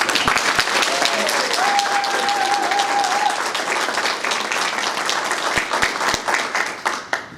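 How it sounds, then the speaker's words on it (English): Audience applause at a Carrasco Consulting ribbon-cutting ceremony, dense clapping with a whistle and some cheering that carries on for several seconds before thinning out. "let's give a round of applause for Ralph coming"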